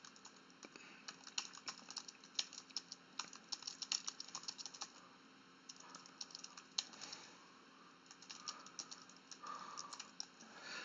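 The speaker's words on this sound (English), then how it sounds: "I'm gonna start typing this stuff out" Fingers type on a computer keyboard in quick, irregular bursts of light clicks and taps, some pauses between runs, recorded close in a quiet room with a faint steady hum.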